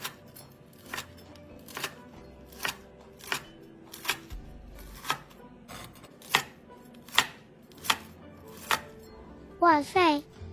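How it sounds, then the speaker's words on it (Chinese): A knife slices through a piece of deep-fried pork belly on a board, giving about a dozen crisp, evenly spaced cuts with a brief rustle near the end. "切片后即可享用了"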